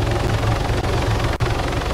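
A helicopter in the video game Arma 3 roars loud and close with a steady, dense rotor drone that fills the whole clip, briefly dipping twice, with no talk over it.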